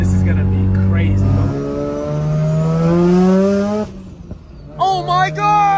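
A rebuilt big-turbo Mazda RX7 engine revs loud and close, its pitch climbing and holding through long sustained pulls, then dropping off before a couple of quick, sharp blips.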